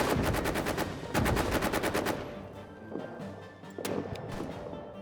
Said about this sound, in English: Open up machine gun.